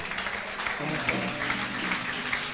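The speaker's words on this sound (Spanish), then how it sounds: "déle un aplauso al Señor" Church congregation clapping in praise during a Spanish-language Sunday service, a steady patter of claps with a low hum of voices and music beneath.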